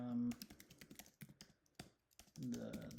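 A computer keyboard typing a login, with a quick run of close, irregular clicking keystrokes and a brief pause between bursts, with a voice speaking at the start and end.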